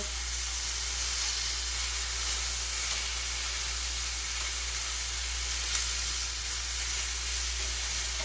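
Steak flipped in a hot pan, giving a continuous dense sizzle and hiss with a low steady hum beneath, close and even throughout, no voices.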